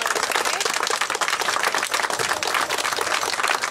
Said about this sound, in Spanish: Un aplauso bien fuerte a la Santísima Virgen.